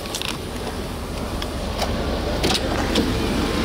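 A 1984 Mercedes 560SL roadster drives along, a steady close engine and road rumble with faint ticks and clicks, loud and unbroken for a few seconds without talk.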